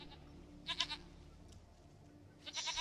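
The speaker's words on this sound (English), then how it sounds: "A goat fetching quest." A goat bleats in The Witcher video game, with two short wavering calls about two seconds apart, fairly faint over a low background hum.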